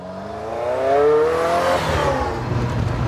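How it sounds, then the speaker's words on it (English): A Formula One race car with turbochargers roars past nearby, its engine and turbo whine climbing, then dropping in pitch as it passes and fades. "You can always hear the turbos whining."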